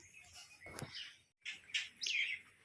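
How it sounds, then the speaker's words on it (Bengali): Several birds chirp and tweet nearby at a feeder in quick, bright bursts, with brief pauses between calls. "এই দেখো পাখিদের খাবার দিয়েছি"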